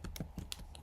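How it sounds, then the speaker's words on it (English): Computer keyboard typing, a short burst of about five crisp keystrokes in an irregular rhythm, close and fairly quiet. "I can type."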